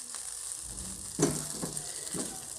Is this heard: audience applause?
no